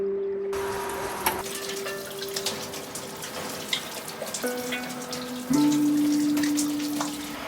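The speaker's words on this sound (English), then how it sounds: "I had a little soak in the tub." Water running and splashing in a bathtub during a soak, a faint tap flow with small drips and sloshes, shifting in pitch as the tub fills, with no talking.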